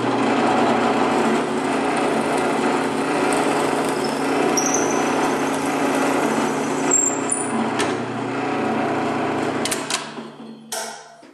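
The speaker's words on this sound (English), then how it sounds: "And I start the drill press." Drill press boring a pivot hole in a wooden box, a steady loud motor whine with grinding cutting noise throughout, a few sharp squeaks partway, then winding down at the end.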